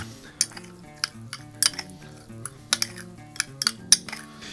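A spoon scrapes and clinks against a bowl while a lemon garlic olive oil wet rub is stirred, giving irregular sharp metallic taps over a soft background of music.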